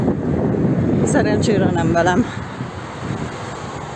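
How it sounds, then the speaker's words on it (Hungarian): Wind buffeting the microphone on an outdoor trip through Székesfehérvár, a constant low rumble running under a man's speech. "ide fúj a szél"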